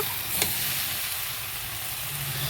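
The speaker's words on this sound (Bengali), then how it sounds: "পেঁয়াজ এই সব কিছু দিয়ে আর কি মশলাটা কষিয়ে নিচ্ছি" Masala with onion sautéing in a hot pan, a steady, close, dense sizzle with a faint scrape of stirring and no talk.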